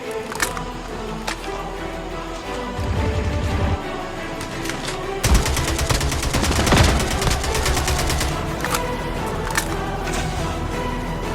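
Gunfire in the mobile shooter Call of Duty Mobile: isolated shots at first, then a long, loud burst of rapid automatic fire, dense and close, followed by more scattered shots.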